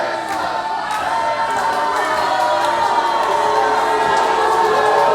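Wrestling arena crowd jeering the OVW Heavyweight Champion, a steady dense roar of voices with shouts rising throughout, close and continuous with no clear break.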